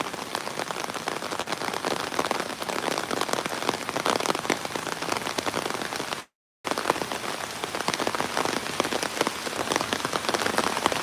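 Steady rain falls in a park, a dense, even hiss of drops hitting surfaces that runs unbroken except for a brief cut to silence.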